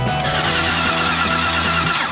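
A car engine roars loudly and steadily as the car pulls away, with a dense, continuous drone and rising tone throughout.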